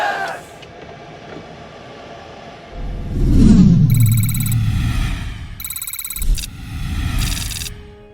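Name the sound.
diesel truck engine failing to start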